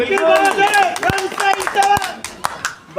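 A crowd at an outdoor political support rally claps in bursts while someone speaks loudly over it, sharp hand claps scattered among his voice.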